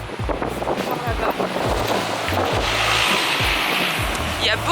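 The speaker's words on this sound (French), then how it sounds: "Il y a beaucoup de vent." Heavy wind buffets the microphone in rumbling gusts, with a washing, surf-like roar outdoors throughout.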